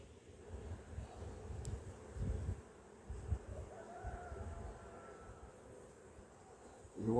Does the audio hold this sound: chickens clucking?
no